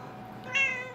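A cat gives a single short, clear meow, close and alone.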